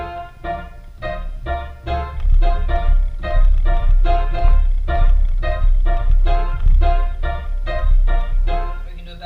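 Piano playing a basic rhythmic pattern for the Pentecostal song Soy Pentecostal, repeated chords struck in a steady syncopated pulse, full and close, with no voice over it.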